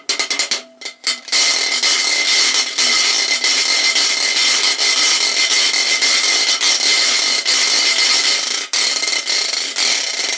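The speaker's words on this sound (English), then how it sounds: "So it's getting that opposite scraping where one hand's going down while the other's going up" Friction percussion played by scraping an object such as a washboard with Sharpie markers, hands moving in opposite directions, giving a steady, loud, continuous rasping scrape that runs almost unbroken after a few short strokes, with no talking.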